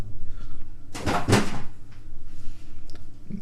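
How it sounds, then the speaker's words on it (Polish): Kitchen drawer pushed shut with a foot, a single short wooden knock and slide standing out from faint room noise, with no talk over it. "Nie zamknąłem szuflady nogą, wam się tylko wydaje."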